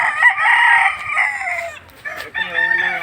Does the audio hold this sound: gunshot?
no